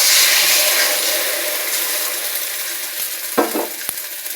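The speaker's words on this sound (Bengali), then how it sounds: "এবার ডিমটা ভেজে নেব।" Beaten egg frying in hot oil in a wok, a steady broadband sizzle at close range that slowly eases, with a few sharp scrapes and taps of a spatula near the end.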